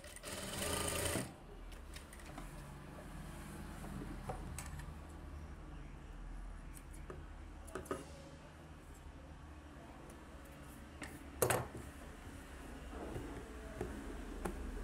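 A sewing machine hums quietly and steadily while stitching a butterfly-style blouse back neck, with a louder start and a few brief clicks and knocks along the way.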